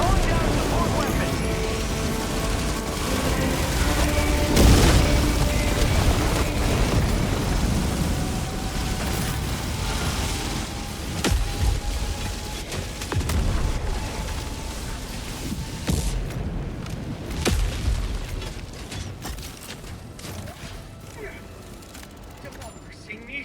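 Orbital strike explosions in the video game Helldivers 2: a dense run of booming blasts and gunfire-like bursts, loud and continuous before thinning out near the end, with game voice lines over the top.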